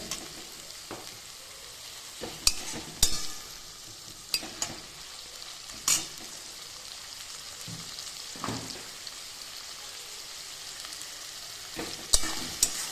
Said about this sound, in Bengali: পেঁয়াজটাও ভাজতে দিয়েছি মিডিয়াম হিটে